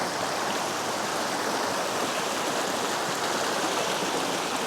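River water rushes steadily near Mae Yen Waterfall, a dense, even flow heard up close with no break or voices.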